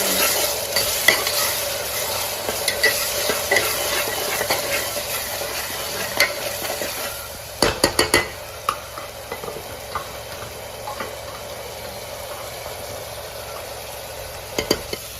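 Ginger garlic paste frying in oil for mutton curry, a loud steady sizzle broken by repeated scraping stirs and a cluster of sharp metallic clinks partway through.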